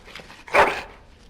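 A dog in the fantasy role-playing game Dragon Age: Origins lets out one short, close whine-bark that swells and fades, with a few softer yelps before it.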